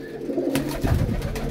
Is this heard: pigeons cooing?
yes